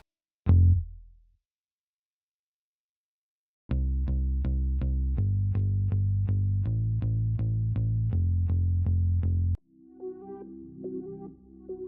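A single low synth bass note rings out and decays, then after a pause a repeating plucked bass riff plays in a steady rhythm before giving way to softer tones.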